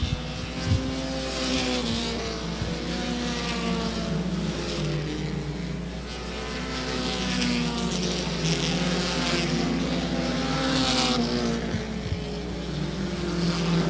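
Stock cars racing around a track in a close battle, engines droning continuously at mid distance with a steady rising and falling roar as the field circulates, no voices over it.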